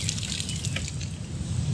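Water draining out of a tilted window air conditioner unit, a steady close trickle and splatter with faint dripping over a constant hiss.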